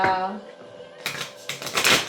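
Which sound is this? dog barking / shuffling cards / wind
shuffling cards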